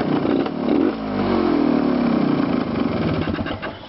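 A 1976 Honda Elsinore MT 250 motorcycle engine runs close by, a loud steady buzzing idle with a brief rev early on and a slight drop near the end, no talk.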